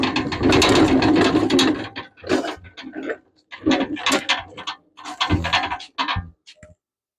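An old bandsaw being hauled out and handled in a workshop, giving loud clanking, rattling and ratcheting metal knocks in several close bursts with short pauses between.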